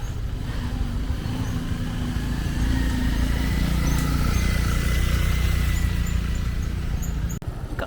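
Motorbike riding along a very muddy road in Siem Reap, Cambodia during rainy season, a continuous low engine drone with rumbling and splashing that swells and holds steady throughout, fairly loud and close.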